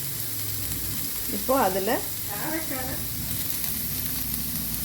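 Onions sautéing with green chillies, coriander and curry leaves in a pan, giving a steady close sizzle throughout while a voice speaks briefly in the middle.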